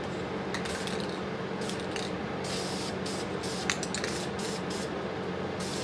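Spray paint hisses onto a plastic vintage Monogram 1/72 scale B-36 Peacemaker model kit in a run of short, even bursts. The nearby hiss is steady and unaccompanied by talk.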